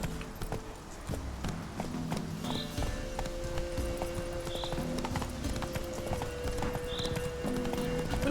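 Horse hooves clip-clopping in a steady galloping rhythm across a path in The Witcher 3: Wild Hunt, with occasional faint whinnies and game music underneath.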